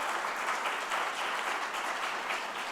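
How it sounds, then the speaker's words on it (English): Steady applause from a crowd, dense clapping sustained throughout at a fairly even level, no voices standing out. "That deserves a round of applause."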